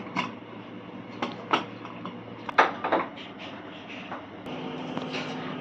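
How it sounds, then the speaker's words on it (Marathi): A pressure cooker lid clacks and clicks into place in a home kitchen, with several sharp metallic knocks spread over a few seconds, followed by a faint steady hum. "आता आपण कुकरला झाकण लावू"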